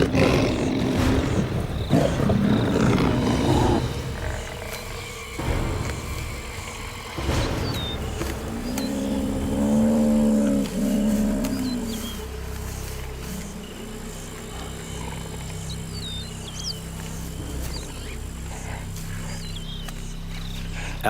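Lion growling and roaring at close range while facing a herd of African buffalo, with deep rumbling bursts and snarls rising and falling over about twenty seconds among hoof and movement noise.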